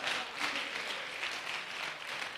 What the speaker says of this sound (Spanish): Denle un aplauso fuerte a Dios.